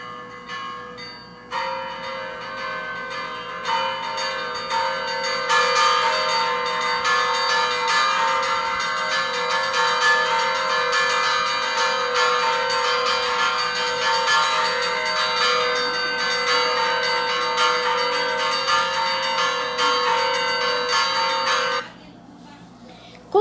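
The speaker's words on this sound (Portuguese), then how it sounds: "um som do sino" A large bell rings repeatedly with a rich, sustained metallic tone that rings on and overlaps, then stops abruptly near the end.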